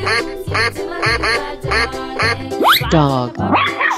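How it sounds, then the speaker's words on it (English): A cartoon duck gives a run of loud, evenly spaced nasal quacks over a bouncy music loop, followed by a couple of rising squeaky calls near the end. "Duck."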